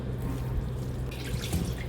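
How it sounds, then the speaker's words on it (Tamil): Steady running water pours and splashes continuously into a cooking pot for mutton kothu curry, with a slight rise in brightness partway through; no voices. "கொஞ்சமாக தண்ணி ஊற்றி"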